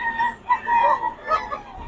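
A gamecock stag crows nearby in short, tonal, wavering bursts that rise and fall over about two seconds.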